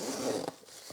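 A Manfrotto spinner suitcase's zipper is pulled in one quick, quiet stroke, then a short scrape as it stops.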